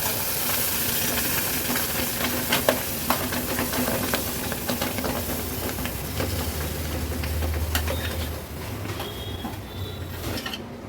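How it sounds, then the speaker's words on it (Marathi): Steady, loud sizzling and hissing as mango pulp is poured into hot tempered ghee in a pan, with a few faint clinks of a utensil throughout. "आता तयार केलेला आमरस ह्या पातेल्यात काढून घेऊया"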